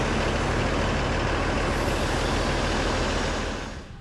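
A dump truck runs at a railroad grade construction site: a loud, steady diesel rumble with broadband engine and mechanical noise that holds for about three and a half seconds, then eases off slightly near the end.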